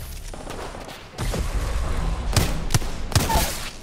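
Booming explosions and gunfire from a video game firefight, a muffled burst followed by a sustained loud roar with several sharp thuds.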